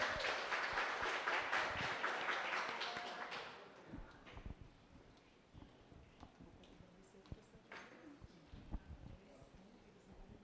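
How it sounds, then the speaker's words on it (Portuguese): Audience applause at a university debate session, a dense burst of clapping that fades after a few seconds into scattered claps and room noise with a few stray taps. "Por favor, uma salva de palmas."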